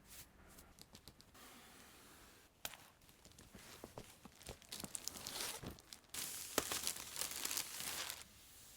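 Packaging of a boxed Volks Dear SD Super Dollfie ball-jointed doll is crinkled and torn open in bursts of crackling plastic and paper, quiet at first and growing louder and busier, with no voices.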